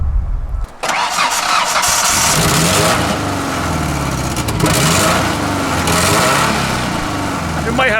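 A truck engine cranks and catches after a short pause, then settles into a loud, steady idle with a slightly uneven beat and occasional revs, while people talk nearby.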